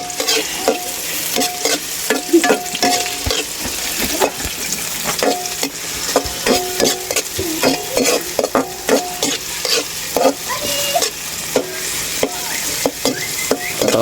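Ginger stirred into hot oil with garlic and onion for squid adobo (adobong pusit), a steady sizzle under repeated scraping and clinking of a spatula against the pan, close and fairly loud with no talking.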